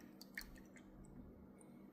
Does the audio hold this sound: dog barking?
no